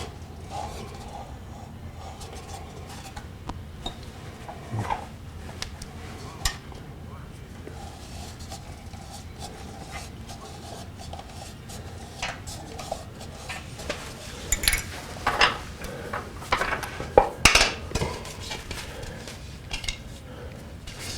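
Carving spoon scraping and twisting inside a wooden bowl turned from a log, with soft repeated scrapes and small clicks that grow sharper and louder toward the end, close up under quiet room noise.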